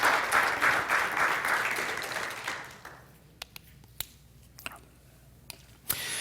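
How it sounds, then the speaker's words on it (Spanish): Congregation applause in a church starts loud and full, then fades over a couple of seconds, leaving only a few scattered single claps and small sharp noises. "denle un aplauso al Señor para comenzar en esta mañana"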